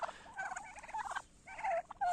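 Turkeys of mixed breeds grazing on winter grass gobble in several quick, warbling bursts, fairly close, with brief gaps between calls.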